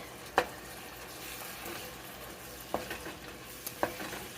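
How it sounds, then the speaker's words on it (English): Lamb and spices for couscous being stirred in a frying pan, with a low steady sizzle and a few sharp spoon scrapes and knocks against the pan. "give all of this a really good mix so that everything spreads evenly and so that it cooks evenly"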